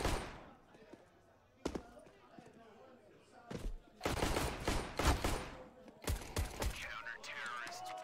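Sharp, loud pistol shots in a Counter-Strike match, several distinct cracks spaced irregularly with a quick cluster later on, alongside a caster's voice.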